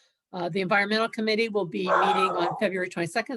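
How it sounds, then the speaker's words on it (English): A pet dog barks and yips in the background, faint and partly masked, while a person speaks steadily over it. "that's my dog barking in the background"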